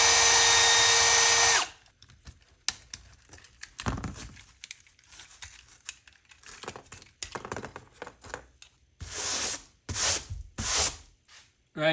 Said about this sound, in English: So I'm gonna drill out the rivets.